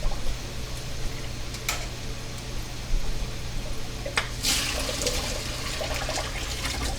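Hot water poured down a kitchen sink drain after rotini pasta is cooked, a steady close gush and trickle that swells into a fuller rush partway through, with no talking.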